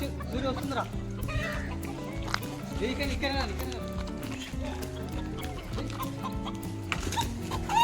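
Chickens cluck on and off, mixed with busy talk and other farmyard noise, fairly close throughout.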